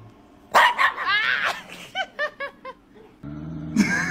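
A dog barks in a quick burst of four or five sharp, close barks, with brief laughter and noise around them.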